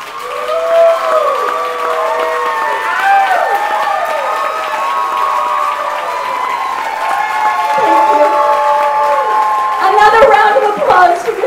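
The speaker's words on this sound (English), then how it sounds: "Another round of applause for Miss Ben Youth." Applause from a burlesque show audience, a steady wash of clapping mixed with whoops and cheering voices, continuing for over ten seconds and swelling slightly near the end.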